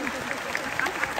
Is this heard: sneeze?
no